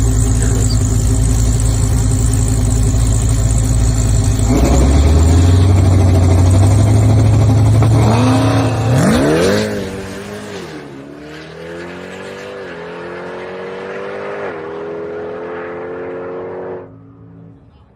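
A race car at a drag strip idles loudly, then revs up and accelerates away on a drag racing pass, its engine note rising and then fading into the distance with a drop in level near the end.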